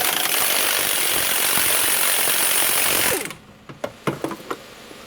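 A ratchet wrench spins loose a front strut bolt on a 2007-2008 Hyundai Entourage, giving a loud, close, continuous rapid clicking for about three seconds that then stops abruptly, followed by a few quieter metallic knocks and clinks.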